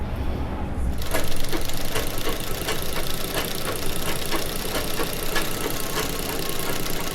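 Sewing machine running steadily while stitching a nighty, a loud, close, fast even mechanical patter of needle strokes with a low motor hum throughout, alone.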